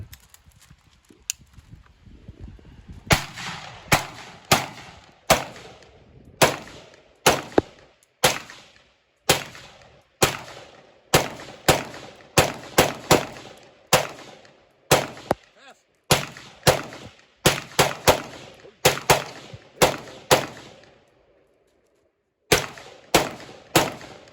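An AR-15 rifle chambered in .223 fires shot after shot at an outdoor range, loud sharp cracks that come in irregular bursts and pauses, some shots spaced apart and others in quick clusters.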